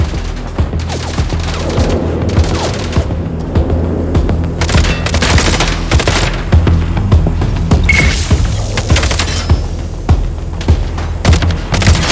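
Rapid bursts of gunfire in the action game MindsEye, loud and close, with sharp repeated shots and booming impacts in an irregular rhythm over a low rumbling background.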